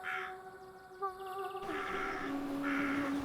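A crow gives several harsh caws in a slow series, each fairly loud and drawn out, over a faint steady background drone.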